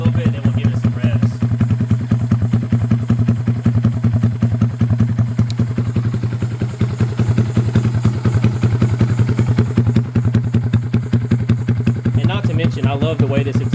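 A 2022 Honda Grom fitted with an aftermarket Amazon exhaust idles close by with a deep, steady, rapid thumping burble throughout, and someone talks over it near the end.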